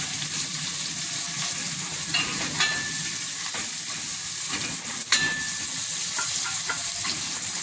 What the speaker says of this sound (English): Fry the onion for some time. Add in the curry powder.